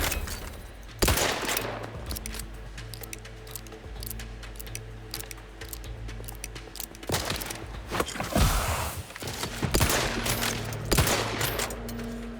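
Rifle fire in the video game The Outer Worlds 2, several loud shots and short bursts spaced across the span over a steady low drone, with no talking.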